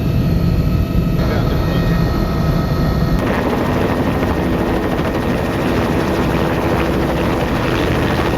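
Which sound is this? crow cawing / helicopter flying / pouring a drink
helicopter flying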